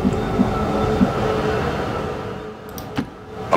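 A train rumbles along in XCOM 2 with a steady rolling rail drone, occasional clicks, and brief sharp sounds near the end.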